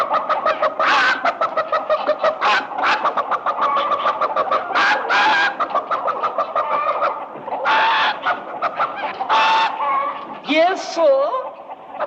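A voice imitates a chicken, giving a quick string of loud, rhythmic clucks in bursts, close and dry, with short pauses between the groups and a higher squawky note near the end.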